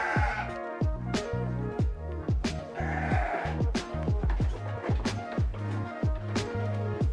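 F1 Dorper sheep bleat repeatedly inside a pen, a chorus of overlapping wavering calls from several animals, some close and loud, others farther back, continuing steadily throughout.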